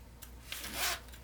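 A zipper on the pocket of a handmade sewn wallet is drawn in a short, soft, rasping pull, close and quiet against a low steady hum.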